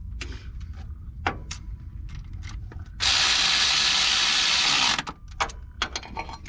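A ratchet tightens the starter bolt on a snowblower in a few quick clicking bursts, joined in the middle by a loud, steady two-second whir of a power tool before the clicks return, close up.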